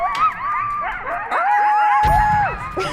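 Wild yipping coyote howls rise and fall in wavering, overlapping pitches, several animals calling at once, with a louder burst near the end.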